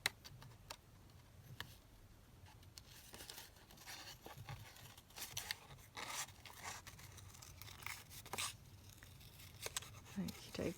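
Scissors snipping through paper to finish cutting out a frame for a junk journal, a quiet run of small crisp ticks and crinkles spread over several seconds, with a soft voice talking at times.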